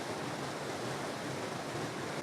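A waterfall with a tree leaning out over it roars in a steady, dense wash of broadband noise, close and constant with no breaks and no voices.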